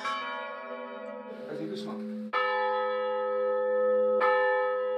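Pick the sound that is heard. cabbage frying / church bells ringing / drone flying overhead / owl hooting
church bells ringing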